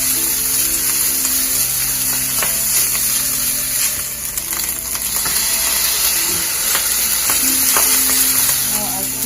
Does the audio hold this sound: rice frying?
yes